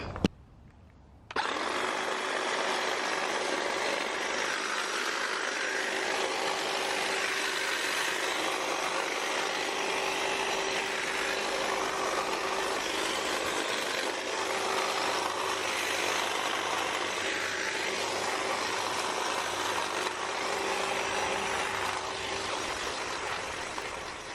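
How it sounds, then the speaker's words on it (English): A hedge trimmer cuts back garden lavender, its motor buzzing loud and steady for over twenty seconds after a brief start, with faint shifts in tone as the blades work through the stems. "And for this job, I am using the hedge trimmer to make it quick."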